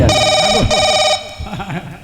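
Electronic telephone ringing during a Hindi nautanki folk-theatre performance, a bright, steady trilling ring in two bursts, loud and close, with voices speaking over and after it.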